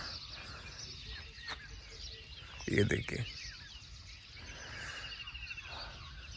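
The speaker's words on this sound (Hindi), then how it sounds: "पक्षियों की आवाज़, हल्की हल्की सरसराहट हवा की" Birds call faintly in the Jim Corbett forest, with light wind rustling; the high chirps sit under a short spoken phrase and steady outdoor ambience.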